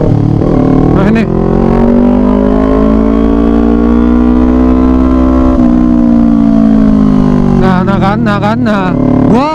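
A 2018 Kawasaki Ninja 250 motorcycle engine drones loud and close while riding, its pitch sweeping slowly up and then easing down, with a rising rev near the end.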